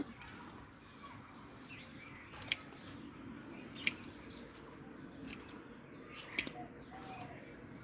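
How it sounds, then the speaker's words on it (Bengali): Dragon fruit plant stems are snipped by hand during garden care, giving a few sharp, quiet cutting clicks spread over a soft outdoor background with faint birdsong. "এই যে দেখেন এইভাবে আমি কেটে দিচ্ছি"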